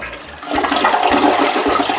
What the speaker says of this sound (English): Let's flush it, see what it does.